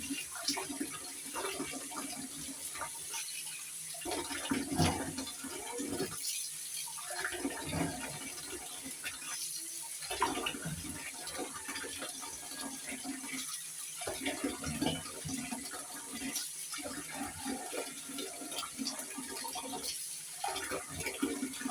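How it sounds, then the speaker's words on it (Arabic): Clean water runs and splashes steadily while old pickle water is swapped out, a continuous close pouring wash with brief pauses and no talking. "المية بتاعت الوش دي وأحط له مية تانية نضيفة"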